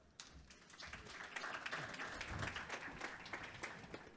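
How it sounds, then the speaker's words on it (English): Audience applause at a summit plenary session, a steady wash of many hands clapping that swells slightly and holds, heard at a distance and fairly quiet. "The crowd goes wild because they love the movement break"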